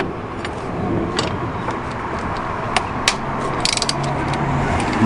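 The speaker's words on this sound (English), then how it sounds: "This is the first I've tried to undo them, and they're just coming out like I've only just done them up." Old bolts being undone from a steel plate with a ratchet, a steady mechanical clicking and gritty turning under workshop background hum, with a few sharper metallic ticks near the end.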